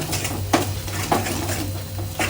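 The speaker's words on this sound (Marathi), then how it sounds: "जरा एक दोन मिनटं असा हा मसाला छानपैकी तेलावर असा परतवून घ्यायचा" Ground masala paste sautéed in oil in a pan for a vegetable dish, a constant sizzle broken by a few distinct scraping clinks of a spoon stirring against metal, close and moderately loud.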